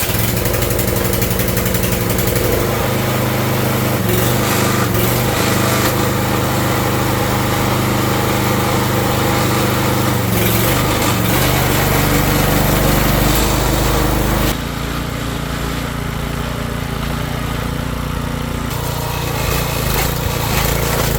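A small garden tiller engine with a faulty transmission runs loud and steady under throttle, a continuous close-up drone that dips slightly in pitch partway through and then holds.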